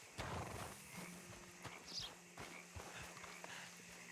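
A horse walks in a video game, its hooves clip-clopping softly in an uneven rhythm over faint background ambience, with a brief bright chime partway through.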